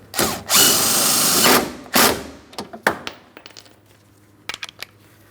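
Power drill tightening window regulator mounting bolts inside a Cadillac CTS door, a close burst of loud whirring followed by a shorter run, then scattered clicks and knocks.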